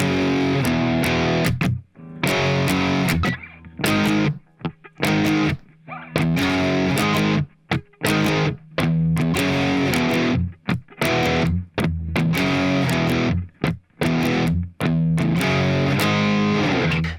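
Heavily distorted electric guitar chugs through power chords from a song, playing the chorus's second half slowly in loud bursts split by short muted gaps.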